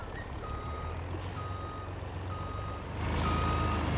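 A truck backing up in Landwirtschafts-Simulator 22 sounds a steady series of reversing beeps, evenly spaced about once a second over a constant engine rumble that grows slightly louder toward the end.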